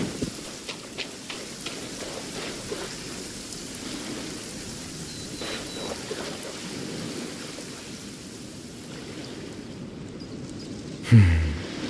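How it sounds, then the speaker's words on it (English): Steady heavy rain in a video game hisses throughout with a low rumbling undertone, ending in a brief louder thump, in the game region of Fontaine. "This heavy rain must be quite an inconvenience for you."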